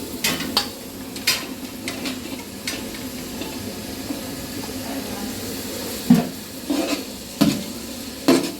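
Chopped onions frying in a pot for pulao give a steady, moderate sizzle, broken by a few sharp clinks and scrapes of stirring near the end.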